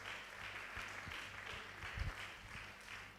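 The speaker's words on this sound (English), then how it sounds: "A round of applause for him as he comes forward." Distant applause from an audience at a university lecture as a professor comes forward to the podium, faint steady clapping with a few louder low knocks and thumps near the microphone.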